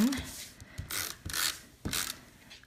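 A Stampin' Up snail adhesive runner lays glue onto the back seam of a Christmas gift card holder, giving a few short ratcheting, clicking rolls in quick bursts, close and fairly quiet, with no talking.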